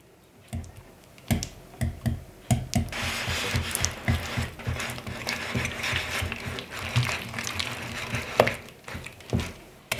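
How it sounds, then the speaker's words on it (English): Butter and honey being whisked together in a bowl for gluten-free chocolate peppermint cookies, a steady run of close scraping and clicking strokes of moderate loudness, with no talk. "I'm just going to start mixing up my butter and my honey"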